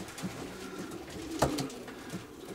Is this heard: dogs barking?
no